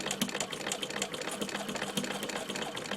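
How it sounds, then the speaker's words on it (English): A vintage Singer 15 treadle sewing machine runs steadily for a few seconds, its needle mechanism producing a fast, even mechanical clatter close up with no talking. "now I will begin to operate the machine"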